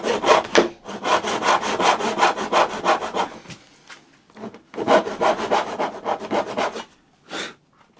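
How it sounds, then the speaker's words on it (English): A hand saw rasps through wood for a scratch stock in quick, rhythmic back-and-forth strokes, close up, pausing briefly before a second run of strokes and a final stroke. "So we're going to saw down to that baseline."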